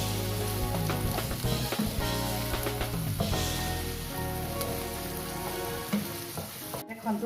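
Chopped onions frying in oil with a spoonful of ginger-garlic paste being stirred in for a dhaba-style cabbage and potato dish, a loud steady sizzle with scraping stir sounds throughout and no talking.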